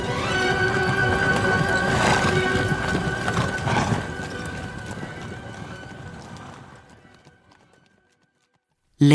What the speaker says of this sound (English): The king rides out of the castle with 12 of his lords.